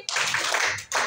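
An audience claps in unison in response to a morning greeting, two dense bursts of clapping separated by a brief pause, fairly close and clear.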